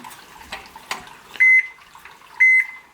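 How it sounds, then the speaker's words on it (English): Two loud, steady electronic alarm beeps, about a second apart, from the controller of a Pit Boss pellet smoker cooking pork belly burnt ends, with faint clatter and a few knocks before them. "at least my alarm's working"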